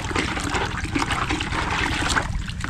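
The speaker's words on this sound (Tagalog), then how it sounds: "Sprayan po natin yung lupa." Water from a drum-fed power sprayer hisses and splashes onto farm soil being prepared for okra, a steady close rush with a gurgling trickle and no talk.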